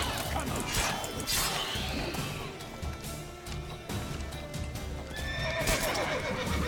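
A horse in the video game The Witcher 3 neighing and whinnying over steady hoofbeat clip-clops, with a crashing thud amid a busy, dense game soundscape.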